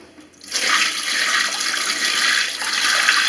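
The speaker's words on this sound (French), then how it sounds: "Et je vide le seau." Shower water is poured out of a bucket, starting after a brief quiet moment and then rushing and splashing steadily and loudly until the end, with no voices.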